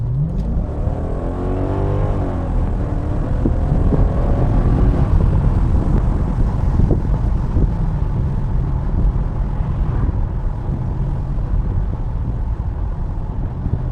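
A Mercedes CLK500 V8 convertible accelerates hard, its engine note rising and sweeping upward over several seconds, then holding a loud, steady drone close by with no talk.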